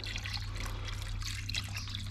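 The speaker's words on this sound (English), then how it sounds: "So that's a litre of water" A litre of water pours from a container into a lime wash mix, making a steady close trickling and splashing with no talking.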